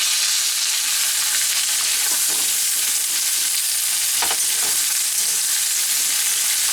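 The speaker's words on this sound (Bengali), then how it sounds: "এবার আমি চিচিঙ্গাটা দিয়ে দেব।" Ridge gourd goes into a pan of frying mung dal, raising a loud, dense sizzle that holds steady throughout, with a few stirring scrapes and no voices.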